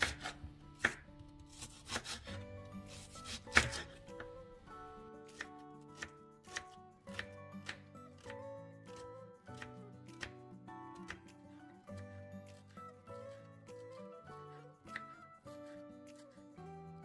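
A knife chops an onion into larger pieces on a board, giving a steady run of crisp, close, fairly quiet cuts at an even rhythm with no talking.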